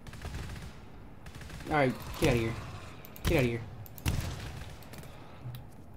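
Machine gun fire in the co-op shooter GTFO comes as a few sharp, scattered bursts mixed in with excited players talking over it.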